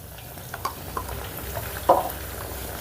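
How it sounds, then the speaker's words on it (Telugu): Ginger garlic paste fries with onions in a pan for an eggplant and potato curry, giving a soft continuous sizzle with a few brief spoon scrapes, close but quiet. "ఈ అల్లం వెల్లుల్లి పేస్ట్ను పచ్చివాసన పోయేంత వరకు ఫ్రై చేసుకుందాం"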